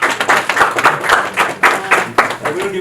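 Rhythmic hand claps from a conference audience, loud and close, in a steady repeated beat.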